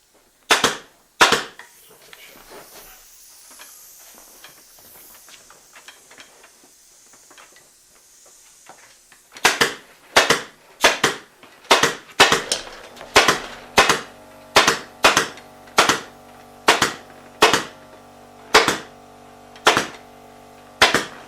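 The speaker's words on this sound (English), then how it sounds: "I'm going to reach in there with my gun, and I'm going to staple that down." A pneumatic staple gun fires into upholstery fabric over a wooden frame, giving two sharp cracks and then a steady run of over a dozen loud, evenly spaced shots with faint hissing air between them.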